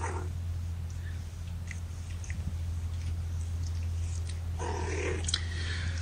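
Young kittens nurse in a kennel, giving a steady close low purring drone with soft suckling squelches and faint shuffling over it.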